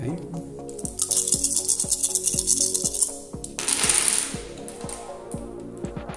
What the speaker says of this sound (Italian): io ho lanciato questi dadi